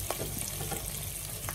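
Garlic and chili sizzling in a pan for adobong manok, a soft steady frying hiss with faint stirring taps, quiet and close.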